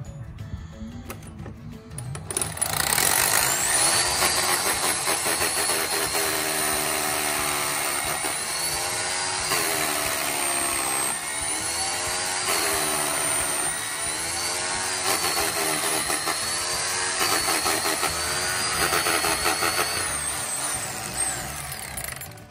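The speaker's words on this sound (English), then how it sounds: "So always try and pre-drill." A power drill whines steadily and loudly for about twenty seconds, pre-drilling a sash window frame, its pitch wavering slightly as it bites into material, with no voices.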